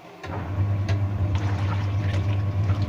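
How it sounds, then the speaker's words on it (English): A VON 10kg twin tub semi-automatic washing machine agitating clothes in water with detergent, a steady low motor hum with sloshing churn, close and continuous. "I'm just going to agitate it for some time"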